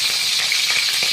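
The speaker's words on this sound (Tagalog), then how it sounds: "Ayan, lutuin na natin yung ating sayote." Chayote sautés in a pan with a constant, close, hissing sizzle and faint stirring ticks, heard alone.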